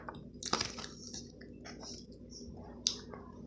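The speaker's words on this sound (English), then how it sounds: "Look, it's a strawberry shortcake popsicle. Take a bite." Quiet close-up bites and chewing of a strawberry shortcake popsicle, with a few sharp crunchy snaps near the start and again around the three-second mark over soft mouth sounds.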